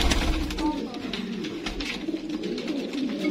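Pigeons from a mated pair kept by a pigeon fancier coo over a steady background hum, with low, continuous murmuring calls that sit fairly close throughout and no speech on top.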